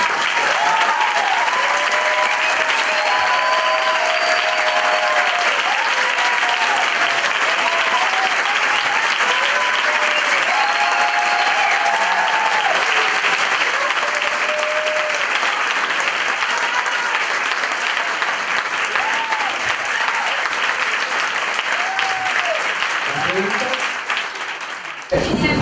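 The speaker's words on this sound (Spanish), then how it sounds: "un fuerte aplauso" Sustained loud audience applause after a talk: dense clapping from a large crowd lasting over twenty seconds, with scattered voices and cheers mixed in, ending abruptly.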